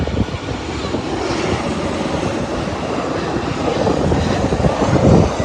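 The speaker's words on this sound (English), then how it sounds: "And this plane is a Delta 737-900." A Delta Boeing 737-900 airliner's jet engines make a loud, continuous roar from close by. The rumble builds slightly toward the end, with no voices.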